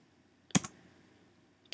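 Two sharp computer keyboard clicks, the first a quick double tap like pressing enter, with a softer click near the end, close and alone in a quiet room.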